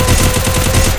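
Gunfire from the mobile battle royale game Free Fire: a steady, loud stream of rapid shots fills the entire second with a dense, rhythmic rattle and no talk.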